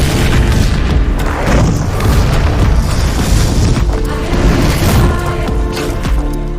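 Explosion in a zombie movie, a loud continuous booming roar with dense rumbling debris and crackle, sustained at full volume with no talk.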